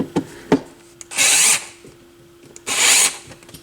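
An electric screwdriver set to very low torque drives screws into a Denon DP-30L turntable: two short whirring bursts, each preceded by sharp clicks and taps, close and fairly loud, with no talking.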